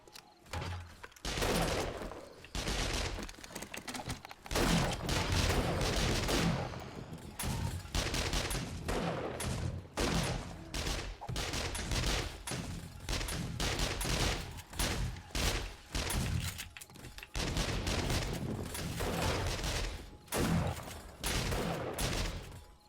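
Automated turrets fire in 7 Days to Die at a sunken workbench mega base, a dense, continuous barrage of overlapping shots with brief gaps over more than twenty seconds.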